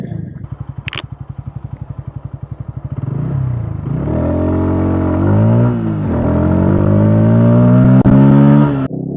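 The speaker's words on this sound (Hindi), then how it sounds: "आइए अब इस बाइक की राइड लेते हैं और मैं आपको बताता हूं कि इसकी किस तरीके की परफॉर्मेंस है" A 2023 Bajaj Pulsar P150 motorcycle idles with a throbbing putter, then revs and pulls away, its engine note rising through gear changes, loud and close.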